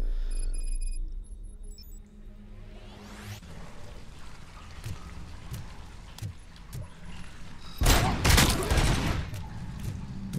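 A turret in the shooter game RoboCop: Rogue City fires repeated rapid shots, with bursts of gunfire and mechanical clatter after an opening tone, swelling into a loud, dense burst of fire near the end.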